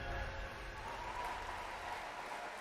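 A crowd applauding at the Gamescom Opening Night Live event: dense, steady clapping fills the whole stretch at moderate loudness, with a faint murmur of voices mixed in.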